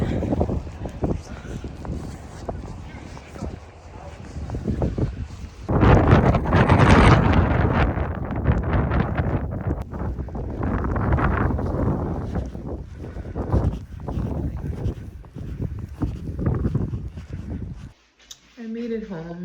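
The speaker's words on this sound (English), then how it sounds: "the wind." Wind buffets a microphone outdoors, producing heavy, rumbling gusts that swell and fade across the whole stretch, loud and close, with a person speaking through parts of it.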